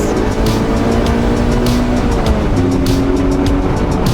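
A Mazda Miata's NC2 engine roars loudly and steadily throughout, revving toward 7,500 RPM with a high-revving, sporty tone and no voices over it.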